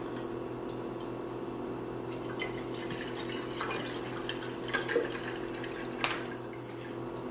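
Water running into a thin glass kettle in a kitchen, a steady soft pour with faint splashing and a few small clinks, fairly quiet and close, without talk.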